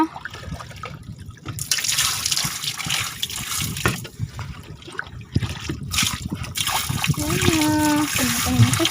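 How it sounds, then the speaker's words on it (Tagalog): Water splashing and trickling as it is poured into a container holding a freshly caught live fish, a fairly close, steady wash of splatter and dribbling with people talking over it. "Lagyan natin ng tubig para makahinga."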